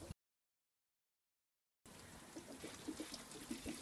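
After a short silence, water trickles and gurgles steadily from hoses draining during a cooling system flush on an SB Holden Barina (Opel Corsa), a soft continuous draining sound with small bubbling pops.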